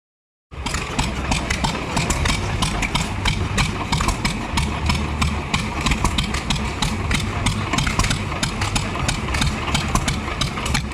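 Several orange tractor engines idle together at a county fair, a loud, steady low rumble with rapid mechanical ticking that starts abruptly and holds constant, with no talk over it.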